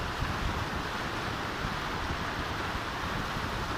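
Fast-flowing river water near Abbottabad rushes in a constant, dense hiss and roar, unbroken throughout, with no voices.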